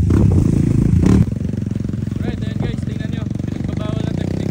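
A motorcycle engine, among trail bikes on a Zambales trail ride, catches with a rough burst and settles into a steady, close idle with a rhythmic mechanical putter and light clatter.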